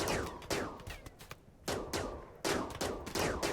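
Bursts of gunfire in RimWorld, with several sharp volleys of rapid shots separated by brief pauses, loud and close, with no talking.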